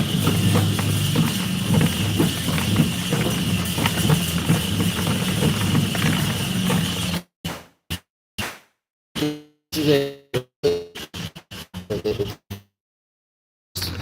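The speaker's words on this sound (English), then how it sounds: "that sound is just the glass marbles on the metal bowl" Glass marbles spinning in a metal bowl: a loud, steady rolling rumble for about seven seconds, then broken into short bursts of rattling and clattering separated by silence.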